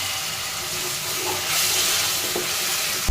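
Water goes into frying garlic paste in a pan for a thick chickpea and split-pea dal, and a broad, loud hiss of steam and sizzle swells about halfway through, with no talk.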